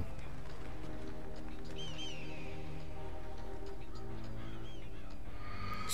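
Crows caw in the Metal Gear Solid video game, short raspy calls rising over a constant droning game soundtrack with low tones, with a few more calls toward the end.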